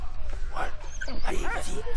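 A few short dog barks and yips, close and sharp, with whimpering tones in between, from the video game Valiant Hearts.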